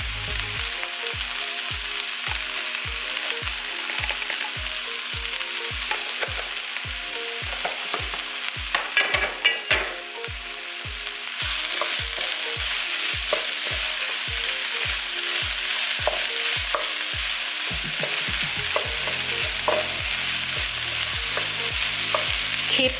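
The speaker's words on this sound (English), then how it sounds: "Keep sauteing it until your bok choy becomes a little bit, has a little bit of color, and it's wilted just a little bit." Bok choy fried rice sizzles steadily in a hot pan while a utensil scrapes and stirs it in a regular rhythm, the clacks close and clear over the continuous frying hiss.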